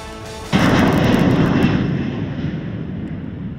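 A fixed-wing airplane at Bozeman Yellowstone International Airport in winter, a loud broadband engine roar that starts abruptly and holds steady before slowly easing, close by with no talk.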